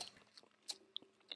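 Wet ASMR lip smacking and mouth sounds, close and quiet, with soft clicks and sticky pops scattered unevenly over about a second and a half, no talking.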